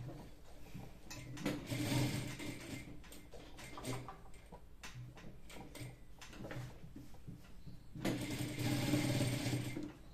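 A sewing machine stitches a shirt placket in quiet, rapid mechanical bursts, with a run at the start and another near the end, separated by softer clicking and handling.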